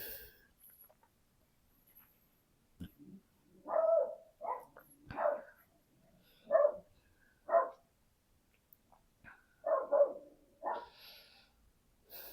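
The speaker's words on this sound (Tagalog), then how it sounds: "Natahol yung aso sa labas." A dog barks outside in a series of short, separated barks, fairly distant and muffled against an otherwise quiet room, with a few faint knocks between them.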